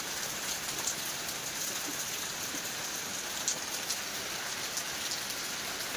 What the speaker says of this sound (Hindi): ये देखो बाहर केमती वर्षा हो